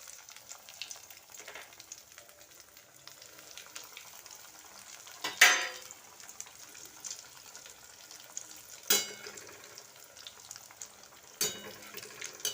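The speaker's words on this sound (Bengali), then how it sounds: "আর এই আমার কড়াইয়ে তেল গরম হয়ে গেছে" Soybean chops are lowered one by one into hot oil in a kadai and fry over a low flame, giving a soft steady sizzle broken by a few sharper bursts and clinks, with no voices.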